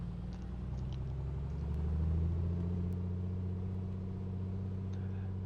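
A Piper Comanche engine in MSFS 2024 is throttled up to 2000 RPM, a steady droning rumble that rises in pitch and swells slightly before holding even, heard from the cockpit without talk.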